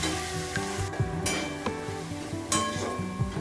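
Ghugni sizzles in a pan as it is sautéed with salt and Kashmiri chilli powder, with a steady fry and a spatula scraping and clinking against the pan in irregular strokes.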